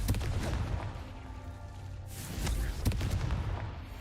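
Blasting spell explosions in Hogwarts Legacy go off as a couple of muffled booming bursts over a steady rumbling game backdrop, fairly quiet overall.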